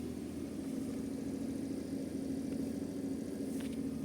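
A Suzuki Every DA17V minivan engine idles fast on auto choke just after a cold start, a steady, even hum close by with no voices.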